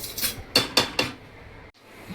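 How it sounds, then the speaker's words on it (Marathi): Metal lid fitted onto a pressure cooker holding vegetable pulao, making a few sharp close clanks and scrapes followed by quieter handling. "आता आपण ह्याला ना ढाकण लावून घेऊया हे कुकरचं"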